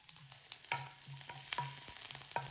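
A tempering of mustard seeds, cumin, dried chilli, asafoetida and curry leaves sizzles in hot oil for buttermilk saaru, with a steady hiss and a run of sharp spoon clicks against the pan.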